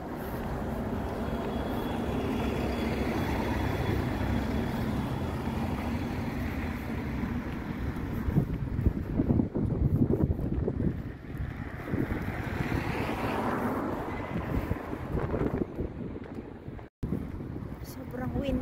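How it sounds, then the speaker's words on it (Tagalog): Strong wind blows outdoors near the cathedral in Galway, Ireland, in March, roaring steadily into the microphone for a long stretch with heavier gusts partway through. "Sobrang windy ang hangin dito."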